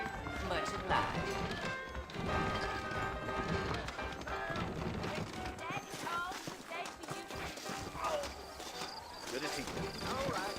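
Horses clip-clopping in the Red Dead Redemption video game, a steady hoof rhythm running under dense music and other game sounds with speech present throughout.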